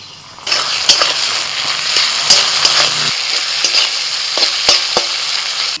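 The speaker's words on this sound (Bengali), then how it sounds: "এবার দিয়ে দিচ্ছি পেঁয়াজ কুচি, এবার দিয়ে দিচ্ছি আদা রসুন বাটা 2 চামচ" Chopped onion and ginger garlic paste frying in hot oil with whole cardamom, cinnamon and cloves, a loud steady sizzle broken by the scrape and clatter of a spatula stirring the pan, close up.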